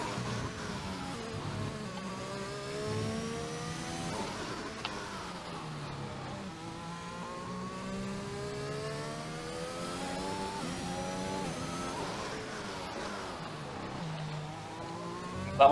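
A Formula 1 car in the F1 2021 video game at the Hungarian Grand Prix revs and whines through repeated rising and falling engine sweeps, steady and moderately quiet throughout.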